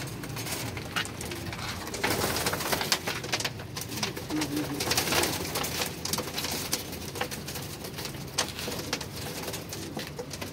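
Adult pigeons, golden-banded birds among them, coo steadily in a crowded cage that also holds breeding pairs and chicks. The cooing is dense and continuous, with soft wing and foot rustles mixed in, and no one speaks.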